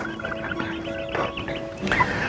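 Chickens in a coop give a few short, close clucks and murmuring calls in quick succession, fairly soft with some rustling between them.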